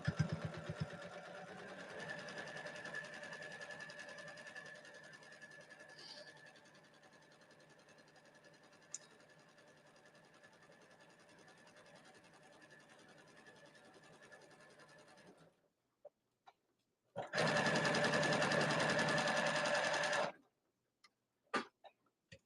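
A sewing machine runs a steady, close seam around the edge of a small lay-flat bag, humming for a long stretch, then stopping and restarting in a louder final burst.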